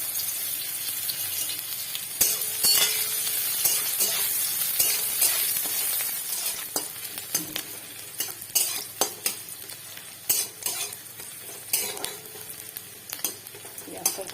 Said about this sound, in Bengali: তেল দিয়ে দিচ্ছি একটা কাঁচা লঙ্কা নিয়ে ভাজবো